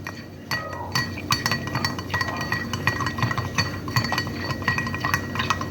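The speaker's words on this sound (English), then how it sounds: "A couple more stirs." A spoon stirring an old fashioned cocktail clinks repeatedly against the glass in quick, uneven taps, close up, with faint clatter of ice and a steady low hum behind.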